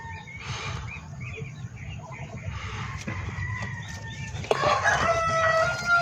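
Rhode Island Black and Australorp chickens clucking at close range, with a rooster crowing and other fowl calling in the background, layered over steady outdoor noise and getting louder near the end.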